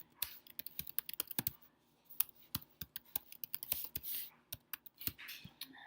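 Rapid keystrokes on a computer keyboard as a website address is typed, with irregular clicky taps in quick bursts and short pauses, close and fairly quiet, with no talking.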